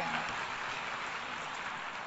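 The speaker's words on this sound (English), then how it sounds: "Yes, you can applaud" Steady applause from an audience at a formal speech event, a continuous dense patter of many hands clapping at even loudness, sounding like a large crowd heard from within the hall.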